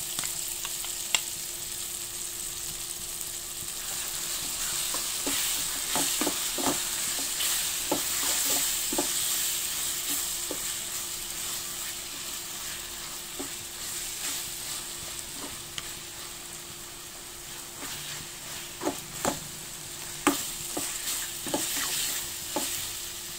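Crushed masala fries in oil for beef piralan with a constant bright sizzle, while a spoon stirs and scrapes the pan in repeated clicks and taps. The sound is close and carries on without talk.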